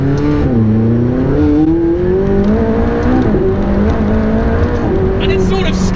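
A McLaren 675LT sports car engine roars loudly from inside the cabin, its pitch climbing and shifting as the car accelerates hard, with talk over the engine.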